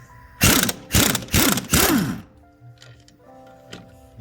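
A ratchet unscrews a bolt while lowering springs are installed on a 10th-gen Honda Civic, giving four loud, close bursts of rapid clicking, followed by faint mechanical ticks.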